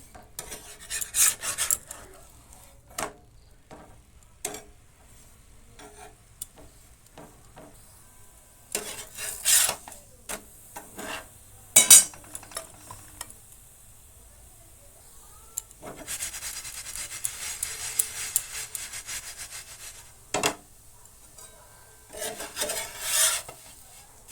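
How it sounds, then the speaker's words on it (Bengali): Methi parathas frying in refined oil and a little butter in a pan over medium heat, with scattered scraping and rubbing strokes against the pan and short bursts of sizzle, close and mostly quiet between strokes. "রিফাইন তেল দিয়ে পরোটাগুলো ভেজে নেব"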